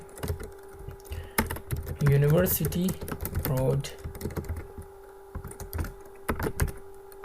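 Computer keyboard keys tapped in quick, uneven bursts while an address is typed into MS Word, with someone speaking over the middle of the clicking.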